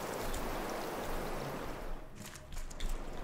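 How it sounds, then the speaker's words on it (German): Steady rain in the survival game Raft, a dense, even hiss of falling water with a few scattered drips, close and continuous for a few seconds without any voices. "Es regnet jetzt, das haben die Wasser."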